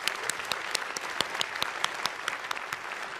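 Dense, steady applause from an audience at the 2017 Boys and Girls Clubs Legacy of HOPE event: many hands clapping close together with sharp individual claps standing out, sustained for the whole stretch without a break.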